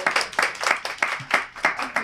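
A small group at a student activism event claps in a brief, sparse burst, individual hand claps distinct and fairly quiet.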